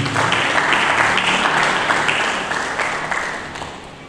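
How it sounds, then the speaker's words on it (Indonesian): Lively applause from a church congregation during a sermon, a steady wash of many hands clapping at fairly close range that gradually fades toward the end. "Mari berikan tepuk tangan yang meriah."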